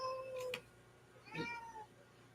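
A house cat meowing for attention gives two soft, close meows about a second apart in a quiet room.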